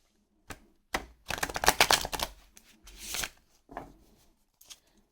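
Tarot cards from a Renaissance-style deck riffled and bridged by hand, a burst of rapid papery flutter followed by softer cascading snaps and a few separate card taps, close and clear with no voices.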